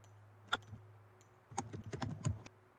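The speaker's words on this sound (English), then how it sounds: "I hear a lot of typing." Typing on a computer keyboard, a brief click, then a quick burst of several sharp keystrokes, faint and close with quiet room hum beneath.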